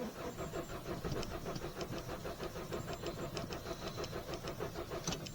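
A Peugeot 206 running on ethanol cranks on its starter motor in a steady, rapid rhythmic whirr that holds at an even level throughout, with no voices.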